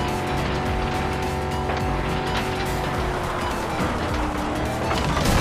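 Racing video game with a race car engine roaring steadily and tires squealing throughout, loud and continuous with no talk.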